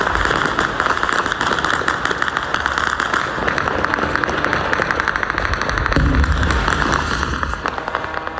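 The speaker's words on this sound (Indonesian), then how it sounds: "rentetan senjata dan ledakan terdengar di berbagai titik di kota Erbil" Gunfire and explosions over Erbil, Iraq, during a night of air-defence interceptions: dense, rapid crackling bursts of shots continue without pause, with heavier booms swelling near the end.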